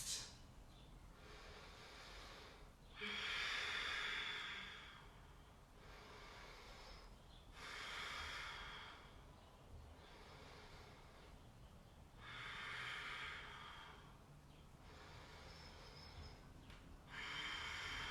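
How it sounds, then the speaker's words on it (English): Slow, deep breaths during a seated yoga twist, long hissing inhales and exhales alternating in a steady cycle of about four seconds, close and quiet, with no talking. "Breathing deeply."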